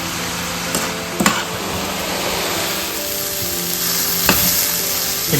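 Long beans sizzle and crackle steadily in a hot pan during a stir-fry for thoran, with a few sharp clinks of a utensil stirring against the pan, close and without talk.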